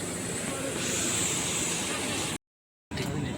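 An Air India Express airliner's engines at Mangaluru airport produce a loud, steady jet roar and hiss heard up close, with a brief cut of silence before the roar returns.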